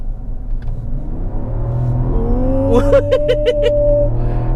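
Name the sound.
Mazda CX-60 six-cylinder engine accelerating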